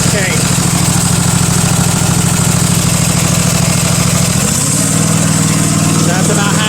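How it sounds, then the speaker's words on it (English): A Husqvarna MZ5225 zero-turn mower engine with a voltage regulator fault idles loudly up close, then revs up to a higher, steadier drone partway through. "So when I rev it up a little bit,"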